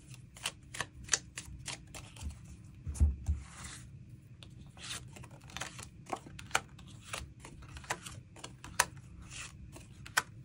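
Tarot cards are shuffled and drawn by hand, a run of quick crisp flicks and taps in irregular bursts, close-up and fairly soft, with a brief dull thump partway through and no talk.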